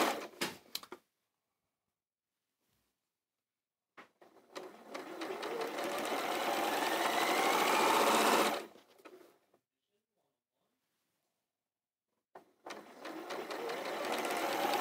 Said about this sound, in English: sewing a quarter of an inch seam right down the side of this